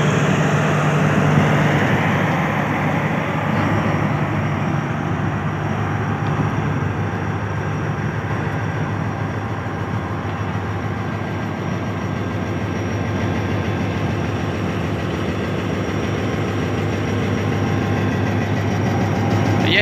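Heavy steady rumble of an idling HGMU-30 diesel locomotive, number 8222, standing still, its deep engine throb loud and close and unbroken for the whole stretch, with no voices.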